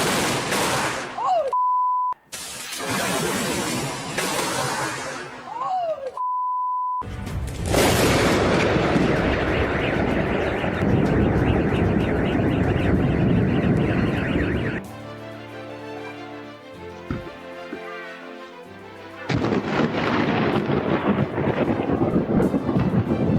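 Heavy thunder rolls through a storm with rain and wind, loud sustained rumbling and booming bursts, broken by abrupt cuts and beeping tones between segments.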